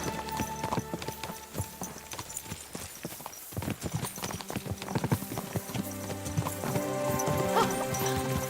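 Horse hooves clip-clopping steadily in a medieval role-playing game, a cheap old nag, heard close and clear over a dense musical score, with an occasional whinny.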